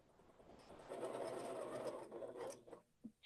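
A sewing machine stitches jelly-roll quilt strips in a steady, fairly quiet run of rapid mechanical whirring that swells for about two seconds before trailing off into brief pauses and a few light clicks.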